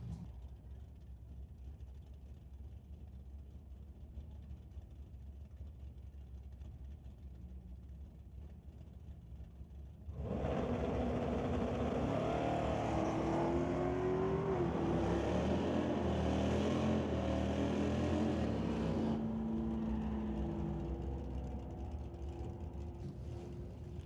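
Drag race cars at the Wally Race of the JBS Equipment ET Series, a roaring engine run swelling in about midway and sustaining loudly before easing, heard at a distance under a track announcer's commentary.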